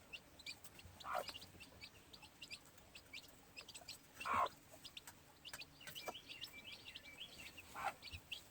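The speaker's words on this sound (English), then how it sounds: "she's a good-natured old hen" Gamefowl hen in a pen clucking softly in scattered short notes, with sharper calls now and then, under faint chirps and outdoor background noise.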